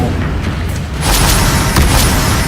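The Incendio fire spell in Hogwarts Legacy ignites with a sudden loud whooshing boom after a quieter moment, then roars on as a broad, sustained burst of flame.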